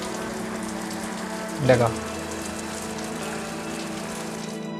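Heavy rain falls in a steady, dense hiss, with a brief louder swell partway through as someone speaks a word over it.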